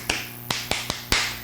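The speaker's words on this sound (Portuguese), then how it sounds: "Aí dá 3 palmas assim" Three sharp hand claps, given as part of a Brazilian football supporters' chant routine, land at uneven intervals alongside two other similar smacks, close and distinct against a quiet low hum with no talking.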